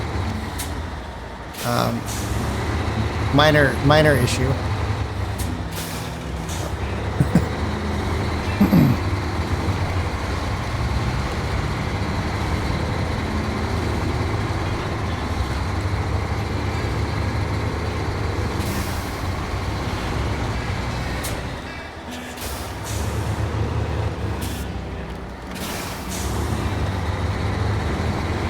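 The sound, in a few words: trucks driving downhill in the video game SnowRunner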